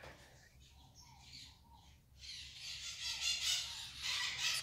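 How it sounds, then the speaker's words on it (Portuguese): Songbirds on a farm chirp and squawk at moderate distance, calls building and overlapping into a steady bright chorus over a quiet low background. "Escutando barulhinho, meus passarinhos."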